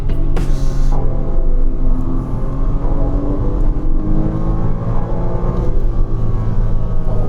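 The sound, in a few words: Porsche Cayman S flat-six engine while driving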